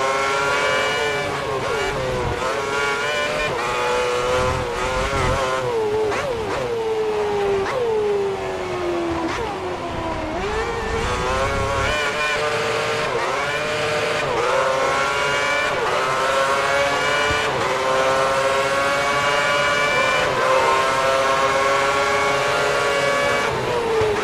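F1 race car engines in the F1 2010 racing game during a wet race, a loud continuous high-pitched whine with rising and falling pitch as the cars shift gears and accelerate, steady throughout with no talk.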